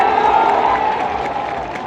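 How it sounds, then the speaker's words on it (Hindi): Crowd at an outdoor political gathering in Kaimur, Bihar breaks into loud, steady applause and cheering, a dense sustained roar of clapping that fills the whole moment without pause. "इसके लिए जोरदार ताली बजाओ सब लोग"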